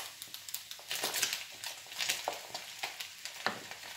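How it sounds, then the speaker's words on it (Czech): Diced cucumbers, peppers, onion and tomato sizzle softly in a pan with browned chicken pieces, with quiet crackles and intermittent stirring scrapes. "Teď tam přidám tu zeleninu."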